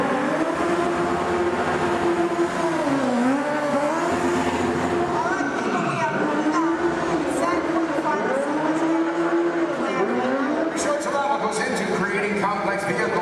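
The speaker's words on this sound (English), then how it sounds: "Complex vehicle stunts." A stunt car runs close and loud through complex stunt maneuvers, its engine rising and falling with repeated revving sweeps and tire squeal, with crowd and announcer sounds around it.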